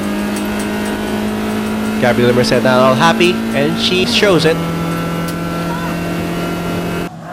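Race cars circle the track in the BF Goodrich Challenge Cup 2003, a steady engine drone running under a commentator's excited talk throughout.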